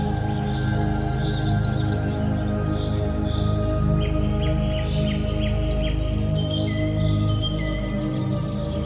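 Birds in the Amazon rainforest chirp and twitter in quick repeated bursts, fairly faint above a steady, droning low-pitched bed of sustained tones that runs underneath the whole time.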